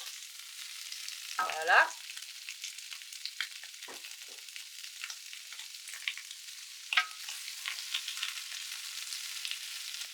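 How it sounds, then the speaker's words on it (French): Bell peppers, shallots and onions fry in a pan with a soft, steady sizzle, with a brief louder stirring scrape near the start and a few light utensil clicks; a voice speaks briefly. "Vous allez incorporer vos poivrons pour commencer à les faire cuire."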